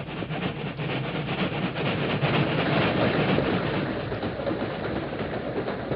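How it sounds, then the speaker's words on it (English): A freight train rumbles past in a ravine, a steady, dense roar of wagons with faint rhythmic clatter, loud and continuous throughout, with no talking. "Yes, it's a freight train."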